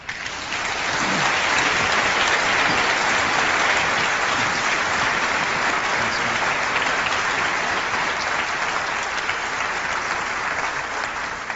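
Sustained, loud audience applause fills a keynote hall at Macworld 1998, a dense wash of clapping from a large crowd that holds steady throughout with no speech over it.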